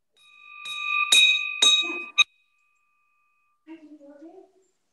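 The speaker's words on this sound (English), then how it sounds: "I'm about ringing the bell 5 times today because nobody has rung it." A handheld bell rings out in a quick series of about four bright, loud strikes with lingering metallic overtones, followed after a pause by a brief voice.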